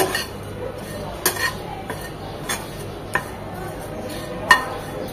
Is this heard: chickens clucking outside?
no